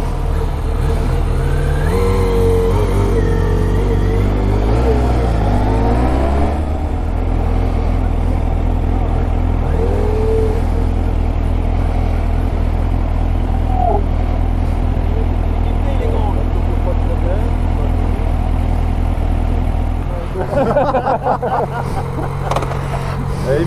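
A motorcycle pulling away on a sloped road during slow-speed riding practice, its engine a loud, steady drone close by throughout, with people talking over it.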